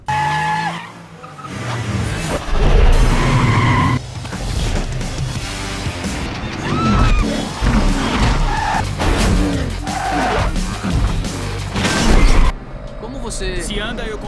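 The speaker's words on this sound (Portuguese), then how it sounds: "a gente tem uma cena foda, que é o Griffin andando de carro e se teletransportando com o carro no meio da cidade" A car in a city scene from the film Jumper drives and skids, with screeching tires, engine roar and crashes under a dense mix of music and effects; people talk throughout.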